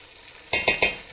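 Spices including garlic, fennel, turmeric, salt and coriander powder sizzling in a pan for Sindhi fish pulao, with three quick scraping stirs of a spoon after a faint quiet start.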